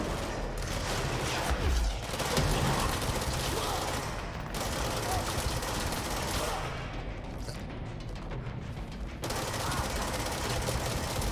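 Dense, rapid submachine gun fire in the video game Control, with sustained rattling bursts and brief pauses over nearly continuous loud game combat noise.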